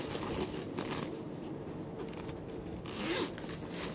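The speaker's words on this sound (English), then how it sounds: "Let me just get this zip open." A zipper on a carry-on bag is pulled open in several short ripping strokes, close and crisp, with brief pauses between pulls.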